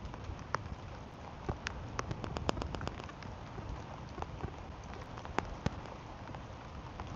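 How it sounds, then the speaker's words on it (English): Large raindrops patter outdoors beside a small fishing pond, irregular close taps and splats scattered over a dense hiss of steady rainfall. "those raindrops are getting big"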